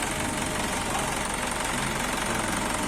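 A 2014 Isuzu Elf HD truck's diesel engine idles in a steady, loud, rough rumble heard close up, with no talk over it.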